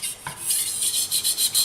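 A knife blade is sharpened on a Chroma P35 Japanese water stone with 1000/3500 grit. After a light knock, close, rhythmic wet scraping strokes repeat steadily back and forth, with no voice.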